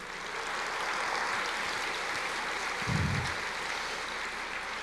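Steady congregation clapping in a church service, a continuous, moderately loud patter of many hands lasting several seconds with a single dull thump near the middle.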